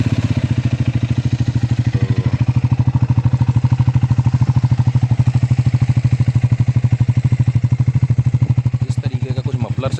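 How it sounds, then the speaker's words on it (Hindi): A Triumph Speed 400 motorcycle engine idles in neutral with a steady, rapid thumping pulse. It is close and fairly loud, holding an even rhythm for the whole stretch with a little clatter near the end. "साउंड अच्छा है, मैं आपको साउंड तो आपने सुना ही होगा, खैर फिर भी मैं आपको एक सेकेंड में न्यूट्रल कर लेता हूँ इसको, साउंड में आपको सुनाई देता हूँ।"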